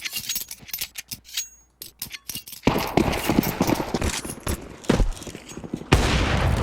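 Gunfire from a Counter-Strike match at IEM Dallas 2025, Aurora versus HEROIC: sharp volleys and rapid bursts of rifle shots crackle at varying distances, rising into dense sustained firing near the end, with clattering mechanical sounds in between.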